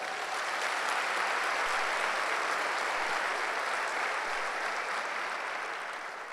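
A Sunday church congregation applauds together, producing a broad, continuous patter of clapping that holds steady before easing off slightly at the end.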